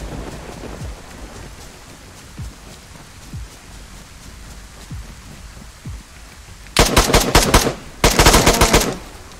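In the video game DayZ, rain falls steadily while a few scattered thumps land, then two loud bursts of rapid gunfire crack out close by near the end.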